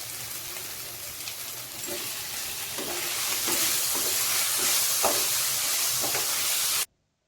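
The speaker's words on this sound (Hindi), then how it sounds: "गोटे बड़ साइज रो टमाटो को काटी मु एथिरे पकई दउची" Chopped large tomato frying in a pan for aludam, a steady loud sizzle with occasional stirring scrapes that builds slightly before cutting off abruptly.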